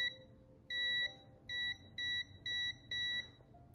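A multimeter's continuity tester beeps five times while probing coil wire. The short electronic beeps are uneven in length and spacing and sound faint and close, over a low background rumble.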